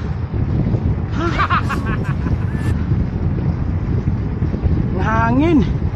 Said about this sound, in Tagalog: Hangin.